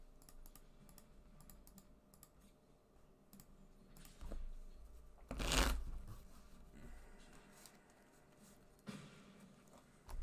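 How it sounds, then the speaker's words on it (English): A deck of cards shuffled by hand during an MTG Arena session, with soft rapid riffling and clicking taps repeating through the clip, a sharper louder riffle bursting in the middle, quiet and close. "I am shuffling a deck."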